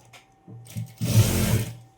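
Sewing machine running a short burst of stitches along the sleeve seam of a readymade dress, close and steady for about a second after a few brief starts, fading quickly at the end.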